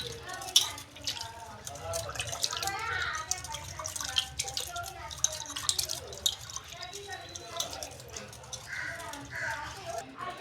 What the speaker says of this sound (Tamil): இது மாதிரி தண்ணியில் ஊற்றி 1க்கு 2 வாட்டி நல்லா அலசிக்கணும்